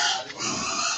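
Pigs grunting on a livestock farm, a loud, continuous rough snorting and squealing chorus close by, with no talk.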